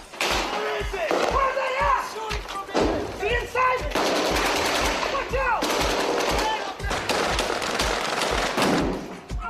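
Gunfire from insurgents attacking near a mosque in Iraq, with repeated sharp shots and bursts of automatic fire at close and middle distance, mixed with shouting voices.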